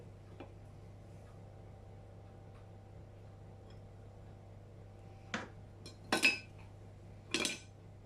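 A spoon knocks and clinks against a bowl while a filling for a homemade leek tart is mixed, three sharp bursts of clatter near the end after a quiet stretch with a low steady hum underneath.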